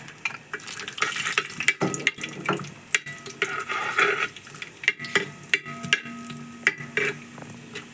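Cashews frying in a pan for a cassava payasam, a continuous sizzle broken by repeated scraping and stirring clicks of a spoon against the pan, close and steady without talk.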